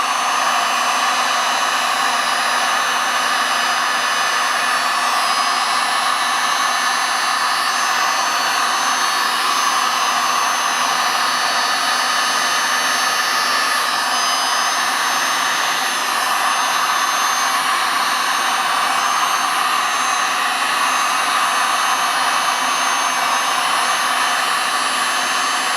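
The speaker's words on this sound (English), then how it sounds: "now take the heat gun and let's" Continuous loud airy whoosh of a heat gun blowing over wet resin art, steady and close throughout with no pauses and no voices.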